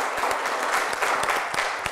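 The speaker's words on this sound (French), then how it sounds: "Applaudissez-vous" A French television studio audience applauds, a steady wash of many hands clapping at even loudness for two seconds, with no voices over it.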